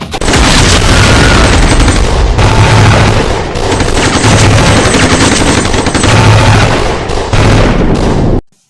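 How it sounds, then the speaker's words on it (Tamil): Loud gunfire sound effect, bursts of rapid machine-gun shots and heavy booms in repeated volleys, roaring almost continuously before cutting off abruptly at the end. "ஒரு துப்பாக்கி சத்தம்"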